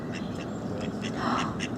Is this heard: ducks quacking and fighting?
yes